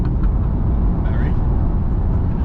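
A car accelerates hard, its engine a low, continuous rumble heard from the back seat, with people talking over it.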